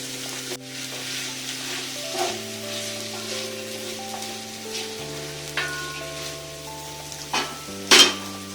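Onions and green chillies frying in oil for mutton biryani, a steady close sizzle with occasional scrapes and light clinks of a utensil against the pan, no talking.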